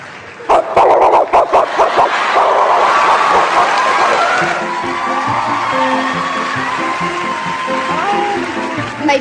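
A girl on a televised talent show imitates a dog barking with her voice, a run of loud, rapid yips and barks near the start, followed by sustained crowd cheering and applause that carries through to the end.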